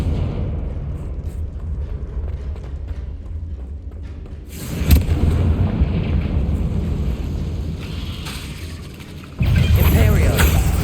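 Confringo blasting spell in Hogwarts Legacy: a loud, rumbling explosion that surges midway, followed by a sustained roar and a second burst near the end, with a voice speaking early on.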